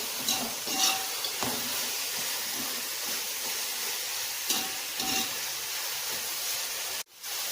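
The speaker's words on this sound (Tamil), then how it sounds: "இஞ்சி பூண்டு பேஸ்ட்டு நல்லா பச்சை வாசனை போகிற வரைக்கும் வதக்கணும்" Ginger garlic paste sautés in a pan for a Tamil-style chicken kulambu, giving a steady close sizzle with occasional scraping stir strokes and a brief drop near the end.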